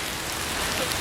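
Light rain falls in a cemetery in spring, a continuous faint patter and hiss of drops on surfaces with no voices.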